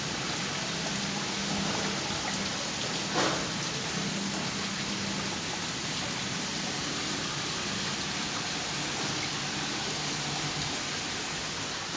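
Leaking rainwater patters indoors into pots and bowls, a steady, dense hiss of falling water with faint drips, and no voices.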